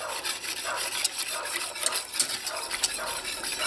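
Sugar is stirred into simmering sorrel for sorrel jelly: a continuous scraping, swishing spoon works steadily against the pot, close and fairly loud, with no talking.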